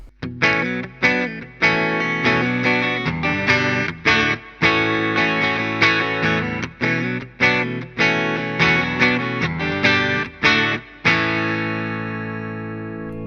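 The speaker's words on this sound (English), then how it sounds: "we've got the front and rear pickup together at the same time" An electric guitar with its front and rear pickups combined plays a rhythmic distorted riff of choppy chords and single notes, loud and close with effects, ending on a ringing sustained chord, with no talking.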